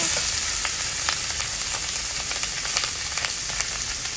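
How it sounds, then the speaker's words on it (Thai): Bamboo shoots stir-fried with red curry paste sizzle steadily in a hot pan, a dense continuous frying hiss broken by frequent small crackles and pops, close and fairly loud with no voices. "นี่ผัดพริกแกง"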